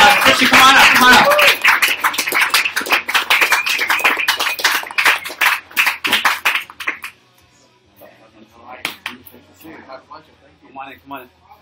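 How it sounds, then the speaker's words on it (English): A crowd gives a guest a warm welcome with loud, sustained clapping that fills the room and then thins into scattered claps, while voices talk over it. "Please, a warm round of applause."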